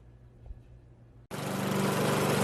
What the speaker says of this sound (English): I hate mowing the lawn over and over and over again.